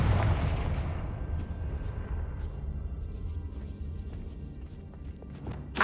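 A Confringo blasting spell cast in Hogwarts Legacy lands as a sharp booming burst that fades into a long, low rumbling tail, with a faint thump near the end.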